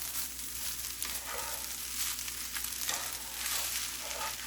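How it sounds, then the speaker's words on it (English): Rice fries and is stirred in a pan with leftover chicken, making a dense, steady, faint sizzle with soft scraping swirls as the spoon moves through it, and no one talking. "stirring that rice up and letting that bottom just get a little bit fried"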